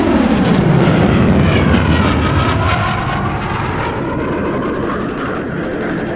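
A US fighter jet from Diego Garcia roars loud and close with dense rapid gunfire bursts over it, the jet noise sustained and slowly easing.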